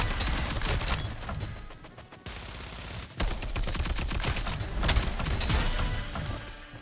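Rapid bursts of automatic gunfire in the video game Rogue Company, loud and close, dense volleys with a brief pause before resuming, layered with impact crashes and no talking.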